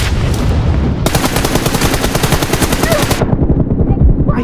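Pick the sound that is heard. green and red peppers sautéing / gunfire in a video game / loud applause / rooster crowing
gunfire in a video game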